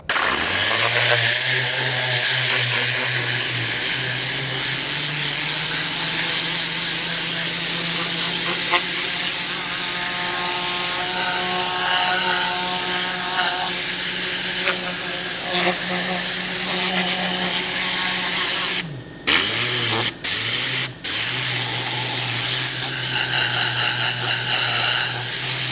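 Tornador compressed air cleaning tool blowing during a real cleaning job, a loud continuous hissing rush of air with a steady compressor drone beneath, briefly interrupted near the end by short stops and restarts.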